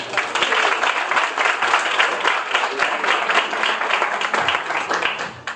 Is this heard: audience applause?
yes